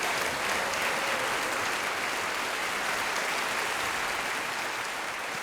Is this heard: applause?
yes